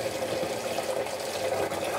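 Water runs steadily from the tap of a garden water butt on an allotment, a continuous close splashing flow with no voices.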